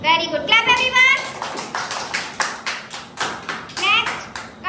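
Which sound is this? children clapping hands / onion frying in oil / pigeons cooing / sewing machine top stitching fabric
children clapping hands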